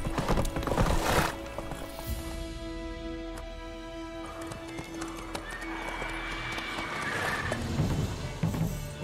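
Horse in The Witcher 3 galloping with rhythmic clip-clopping hooves, giving a drawn-out whinny partway through, close and clear amid game ambience.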